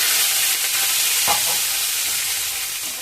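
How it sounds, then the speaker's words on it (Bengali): Bay leaf, dried chilli, panch phoron, onion and tomato frying in hot oil, a steady close sizzle with a brief stirring scrape near the middle. "এর মধ্যে দিয়ে দেবো তেজপাতা, শুকনো লঙ্কা, পাঁচফোড়ন, পেঁয়াজ, কাঁচা লঙ্কা, টমেটো"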